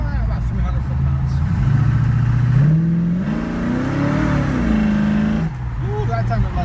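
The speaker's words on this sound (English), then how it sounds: "The engine's running good, it's 347" A 1968 Mustang GT with a 347 engine revs and accelerates, its loud mid-pitched drone rising and falling through the gears up close, with brief pauses and shifting tone.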